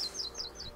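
Bird in South Park: The Stick of Truth gives quick repeated high chirps over a faint game background, close and fairly clear.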